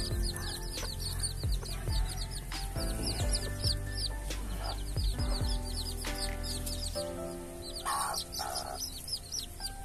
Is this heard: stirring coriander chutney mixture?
no